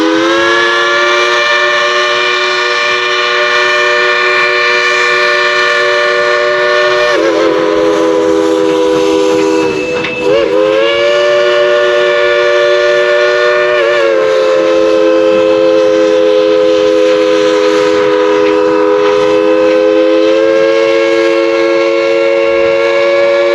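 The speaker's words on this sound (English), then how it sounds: "we're all going to tell Engineer Julie to blow the whistle" Dollywood steam train whistle blows loud and near in long sustained chords, breaking briefly twice and resuming, sounding for over twenty seconds with no talk.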